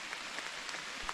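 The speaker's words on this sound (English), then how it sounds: "Well, the rain found us." Rain falls steadily on a forest trail, a dense even patter of drops close by for a brief moment.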